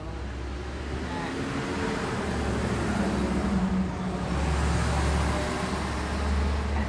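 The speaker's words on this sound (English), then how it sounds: "FedEx car just went by. It's so loud." A FedEx delivery vehicle passes on a nearby road with a loud, steady engine and tyre rumble. The noise swells and lingers for several seconds over a background of traffic.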